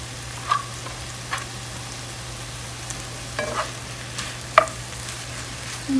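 Spinach tossed into a hot pan with garlic paste, giving a faint, soft sizzle broken by a few sharp clinks and scrapes of stirring at irregular intervals, fairly quiet overall.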